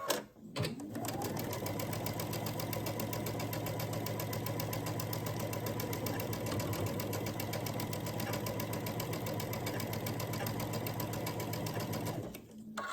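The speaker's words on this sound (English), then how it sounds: "sew down this side at a 1/4 inch" A sewing machine runs steadily, stitching quilt squares together at a quarter-inch seam, with a fast even whir and rapid needle clatter held close and constant for about twelve seconds after a brief start.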